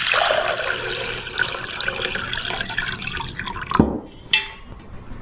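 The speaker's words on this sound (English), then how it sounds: "I'm just going to fill it up with water." Water pours steadily into a flower vase lined with chicken wire and waterproof tape, a close, continuous rushing splash that stops abruptly, followed by a brief final trickle.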